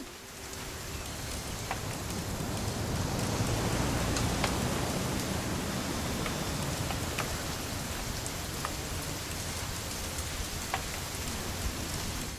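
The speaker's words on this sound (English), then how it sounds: "It's gonna rain the whole weekend, isn't it?" Steady rain falling during a weekend hunting trip in What Remains of Edith Finch, a dense, even patter of drops on surfaces, moderately quiet and unbroken, with no voices.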